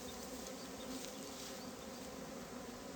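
Honey bees buzz steadily around a village honeycomb, a dense, continuous drone close by with no voices.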